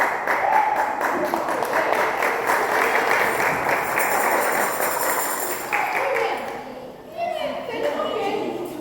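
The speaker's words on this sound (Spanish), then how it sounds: "Vamos a darle un fuerte aplauso." Church congregation clapping in a hall, a dense, sustained burst of applause with cheering voices mixed in, fading briefly before picking up again.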